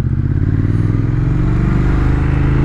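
A Triumph Thruxton R motorcycle fitted with an aftermarket Vance & Hines exhaust idles loud and close, a deep, steady, throbbing engine rumble with a rapid pulsing beat.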